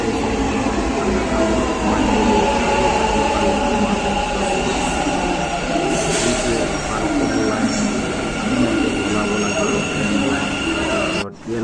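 A metro train runs steadily, its loud rumbling hum and faint rail squeals filling the space, with a brief drop near the end.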